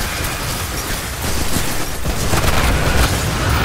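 Explosions and gunfire in Destiny 2: The Witch Queen: a continuous loud, rumbling barrage of booms and blasts that grows heavier midway, close and chaotic with no talking.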